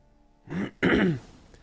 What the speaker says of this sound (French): je tousse un peu en ce moment